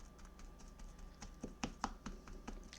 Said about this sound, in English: So I put some water and some tacky glue. And I'm just chopping it to get it all mixed